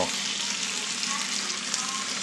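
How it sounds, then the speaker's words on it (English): Honey mushrooms fry in butter in a pan, giving a steady, close sizzle with faint stirring scrapes throughout and no talking. "Put a little extra butter in, and I'm just gonna keep them moving, keep them stirring, and they will cook down."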